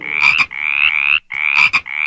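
Frogs croak in loud, close, rasping bursts sent as a plague upon Pharaoh's people, two long calls each ending in sharp clicks, repeated twice with no voices.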